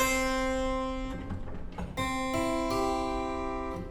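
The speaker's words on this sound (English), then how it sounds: "The levers actually can impart a kind of a plucked effect, like a lute." A bright two-manual Wittmayer concert harpsichord with its lute stop engaged plays sustained, plucked chords with a dry, lute-like twang, a short busier passage between them, no talking.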